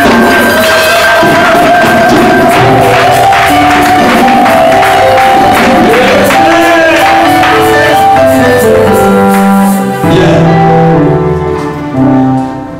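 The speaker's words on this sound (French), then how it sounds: "Est-ce qu'on peut donner des acclamations pour Jésus?" A church congregation in Brussels cheers and acclaims loudly and continuously, with rhythmic claps and a steady tonal backing, fading slightly near the end.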